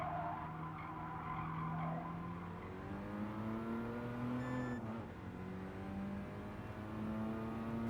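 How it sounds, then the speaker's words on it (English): A race car in GT Sport braking hard into a hairpin, tires squealing in long sliding tones while the engine note drops and shifts down, loud and close throughout. "Braking for the hairpin, dropping down to 2nd"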